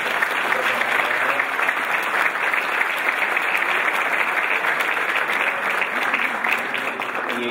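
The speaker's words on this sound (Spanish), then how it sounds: "Les damos un fuerte aplauso a nuestro..." Steady, sustained applause from a large audience fills the whole stretch, loud and even without pause.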